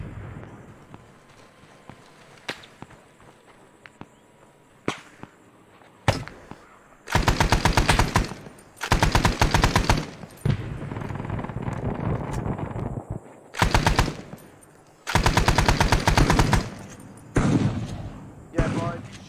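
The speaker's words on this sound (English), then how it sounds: "shoot with your shotgun" Shotgun fire in Arma 3 during a Vietnam-era Prairie Fire mission: several loud, close bursts of rapid shots broken by quieter gaps with scattered single cracks.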